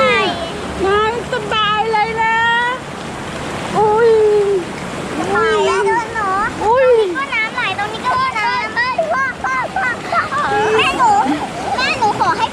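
A stream's water rushes steadily at Wang Takhrai under nearly constant excited shouting and chatter from several people splashing about.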